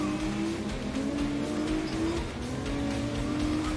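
Race car engine in the GRID Legends racing video game, a steady loud roar with shifting revs and rising and falling pitch, tire noise underneath, continuous throughout with no talking.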